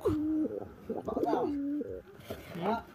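Low, throaty pigeon coos sound close up, mixed with a person talking over them.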